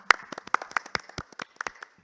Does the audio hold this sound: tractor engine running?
no